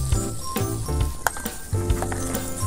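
Pepper Lunch beef pepper rice sizzling on a hot plate, a steady crackling fry punctuated by metallic clinks of utensils stirring against the pan, close and clear.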